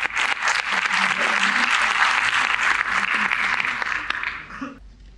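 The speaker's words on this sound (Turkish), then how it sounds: "Ödülü takdim etmek üzere Ömer Can Derman'ı alkışlarınızla sahneye davet ediyorum efendim." An audience at an award ceremony applauds as a presenter is welcomed onto the stage, with dense, loud, steady clapping that fades out abruptly near the end.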